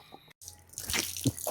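A water tap drips, a few close, distinct drops and wet splashes landing after a brief silent gap, with faint running water in the background.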